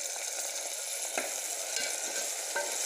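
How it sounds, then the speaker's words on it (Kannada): Chopped tomato goes into a hot pan of oil and green chillies for vegetable biryani, making a quiet continuous sizzle with a few brief scraping stirs of a spoon. "1 ಟೊಮೆಟೊ ಹೆಚ್ಚಿಟ್ಟದ್ದು, ಅದನ್ನು ಹಾಕ್ತಾ ಇದ್ದೇನೆ"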